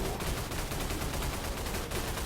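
Dense, continuous gunfire rattles without a break in the Dino Horde dinosaur-survival video game, loud and close, like rapid automatic shooting during a four-player co-op match.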